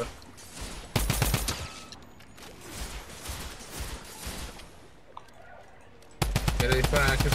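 Loud bursts of rapid automatic gunfire from a video game shootout open and close the stretch, with someone talking in a quieter middle section.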